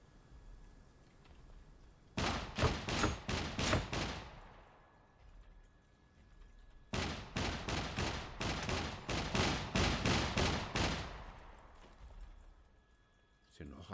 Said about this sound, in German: Das klang wie ein zweiter Schuss.